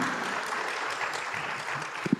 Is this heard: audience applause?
yes